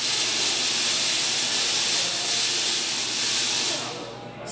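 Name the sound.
Tesla coil discharging at Griffith Observatory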